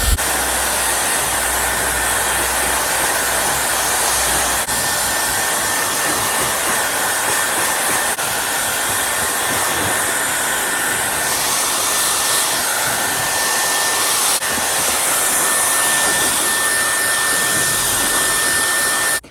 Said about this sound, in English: To turn on the Dyson you just push it up, and then to get the cold setting you like push it up and hold it up.